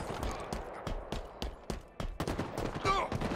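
Rapid bursts of gunfire during a Halo capture the flag match on the Empyrean map, repeated sharp shots in a steady rhythm with a few louder blasts near the end, under light background game noise.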